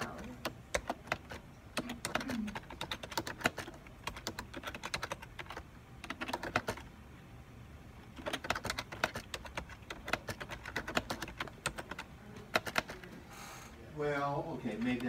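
Steady typing on a Microsoft Ergonomic 400 computer keyboard, with close, continuous key clicks in bursts and brief pauses, no talking, plus a short mechanical whir near the end.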